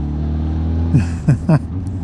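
A Honda CB1000 Hornet SP motorcycle's low engine rumble builds into a few quick, sharp revs with rising pitch, close by and fairly loud.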